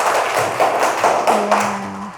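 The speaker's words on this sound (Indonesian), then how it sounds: "Tepuk tangan untuk teman kalian." Students in a classroom give a short round of clapping for a classmate, a dense, steady patter of many hands lasting a couple of seconds, close by and with no talk over it.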